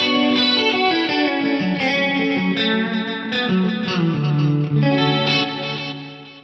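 Electric guitar chords ringing out through a lush vintage plate reverb, notes blooming and trailing into a smooth shimmering tail, no voices.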